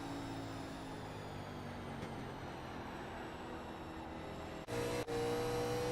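Steady race car engine drone from an in-car view in a NASCAR racing video game, a constant loud hum with a brief dip and cut near the end before resuming.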